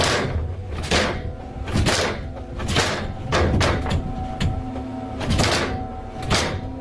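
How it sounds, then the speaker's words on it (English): An attic door rattles at night in repeated sharp, jarring bursts, loud and close, with brief gaps between the clattering shakes. "the attic door starts rattling jarringly"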